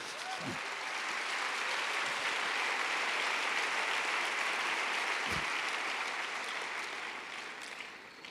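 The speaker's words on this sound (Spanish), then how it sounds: "Dale un aplauso a Jesús." Church congregation applauding during a sermon, sustained dense clapping from a large crowd that swells and slowly fades, with a couple of brief low thumps.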